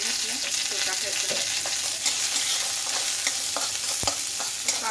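Chopped onion and garlic frying in a pan give a loud, dense sizzle and crackle that fills the whole stretch, with scattered pops and light stirring clatter.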